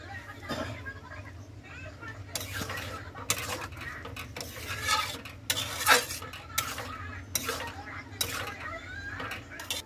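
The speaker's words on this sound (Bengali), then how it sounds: "দুটো দিয়ে একটু ভালোভাবে মিশিয়ে নেব" Tadka is stirred and mixed in a pan, with repeated metallic scrapes and clinks of a spoon and a light sizzle under a person speaking.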